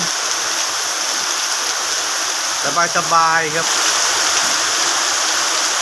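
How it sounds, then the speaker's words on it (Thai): Heavy rain falls at night as a steady, broad rushing hiss throughout, with someone briefly speaking over it midway. "ก็เลยเอาสายฝน ยามดึกดึก เดินเดินทีนี้พี่น้องเอามาให้รับชมกัน"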